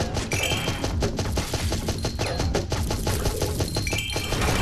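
Dense, rapid bursts of gunfire in the 2D game Zombotron 2, shooting stones out of the way, with clinking impacts and crunching debris, continuous and loud throughout.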